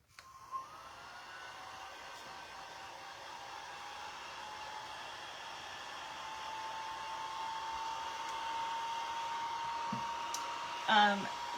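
A hair dryer blows steadily on paint on a craft mug, a loud, even whoosh with a slight rising whine that lasts the full stretch, ending with a brief clatter near the end.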